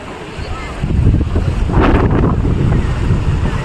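Gentle sea waves wash onto the beach at Dhanushkodi, a broad, rushing surge swelling midway and heavily mixed with strong wind buffeting the microphone, loud and close.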